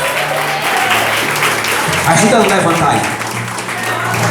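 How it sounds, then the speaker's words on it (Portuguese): A church congregation applauding during a worship service, a dense, sustained wash of clapping from many hands filling the room, with a voice speaking briefly over it. "A igreja bate palmas para o Senhor Jesus"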